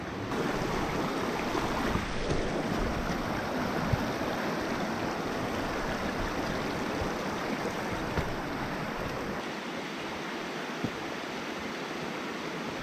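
A river flows near a hiking trail in the Olympic region, a constant broadband rush of water that stays steady and fairly close throughout, with no voices.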